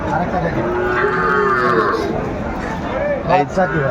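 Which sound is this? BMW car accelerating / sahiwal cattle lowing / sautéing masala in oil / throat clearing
sahiwal cattle lowing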